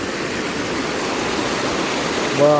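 Steady rushing floodwater from an overflowing river flows continuously through a village, a broad, even roar close by, with a brief voice near the end.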